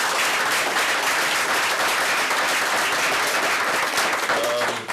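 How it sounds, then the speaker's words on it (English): A school board meeting audience gives a sustained round of applause for Dr. Brown, a thick, even wash of many hands clapping that fades slightly at the end. "I will ask for a round of applause for Dr."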